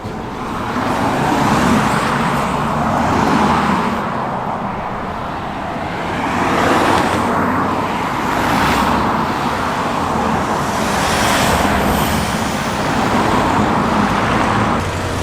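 Classic lorries at a vintage truck run, including old Bedford and Albion trucks, roll past close by in a loud continuous rumble of engines and road noise that swells and eases as each one passes.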